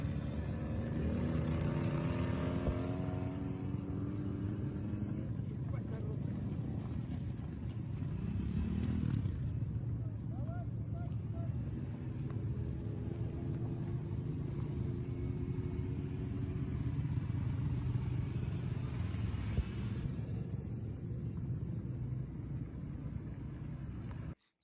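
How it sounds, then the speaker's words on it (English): Motorcycles carrying Russian infantry ride through fog in a war zone, heard as a continuous rumbling engine drone with rising and falling whines as the bikes pass, steady and fairly loud, with no talking. "Lots of the infantry on motorcycles."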